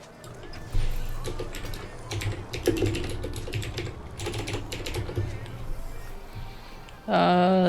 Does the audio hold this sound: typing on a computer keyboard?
yes